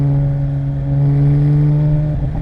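A 2007 Porsche GT3 RS with a 3.6-liter naturally aspirated engine holds a loud, close, steady tonal drone, its buzzing pitch barely shifting across the stretch, with no talking.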